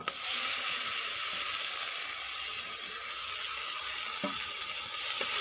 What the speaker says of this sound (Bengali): টমেটো আদা সব কিছু ভালো করে ভাজা ভাজা করে নিয়েছি